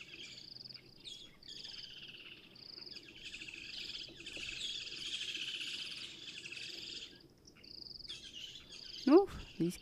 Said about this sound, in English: Oh, these kingfishers are rowdying today.